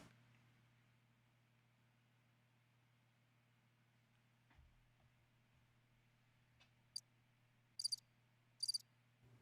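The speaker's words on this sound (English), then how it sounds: "is that Crickets or is that John's dryer?" Faint, high cricket chirps come in a few short bursts near the end, over a low, steady electrical hum in a quiet room.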